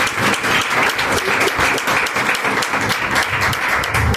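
A church congregation claps joyfully in praise, a loud, dense, continuous burst of many hands clapping close by, keeping an even intensity from start to finish.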